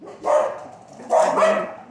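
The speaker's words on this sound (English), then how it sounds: "My dogs are acting up." Dogs barking close by in two loud bursts, a single bark followed by a quick double bark, with a short pause between.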